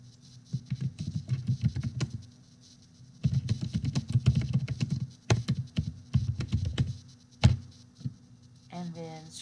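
Typing on a computer keyboard, bursts of rapid close clicking separated by short pauses, with a few sharper isolated key presses and a brief voice near the end.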